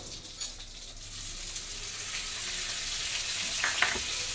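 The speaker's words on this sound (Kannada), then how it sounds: "ಬೆಣ್ಣೆಯಲ್ಲಿ ಸ್ವಲ್ಪ ಆಯಿಲ್, ಬೆಣ್ಣೆ ಏನು ಹಾಕ್ಕೊಂಡಿದ್ದೀವಿ ಅದರಲ್ಲಿ ಫ್ರೈ ಮಾಡ್ಕೊಳ್ಳೋಣ" Garam masala, coriander powder and chilli powder sizzle steadily in melted butter and a little oil, a close, continuous fry with light stirring and nobody speaking.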